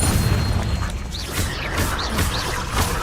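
Confringo blasting spell detonating in Hogwarts Legacy, a short booming burst followed by a few lighter crackling pops, with no voices.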